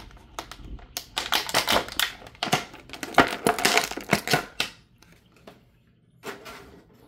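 A Star Wars Black Series Ahsoka Tano (Peridea) action figure is pulled from its plastic packaging with close, dense bursts of crinkling and crackling that go quiet near the end, apart from one last rustle. No voices.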